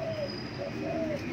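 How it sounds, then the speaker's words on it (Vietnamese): Nestling white-rumped shamas in the nest give thin, sustained whistled calls, repeated several times at close range against steady background noise. "Hai con chim con chích cho lửa."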